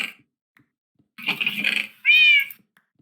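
A pet cat meows close by in a quiet room, first a soft breathy meow, then a clear, rising, drawn-out meow after a short pause.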